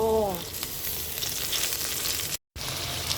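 Garlic, chili and pork belly stir-fry in hot oil, giving a steady, close sizzling hiss throughout, broken by a brief full dropout near the end before the frying resumes.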